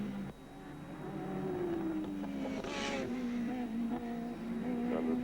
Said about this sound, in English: that was Mansell just taking a slow lap past Minardi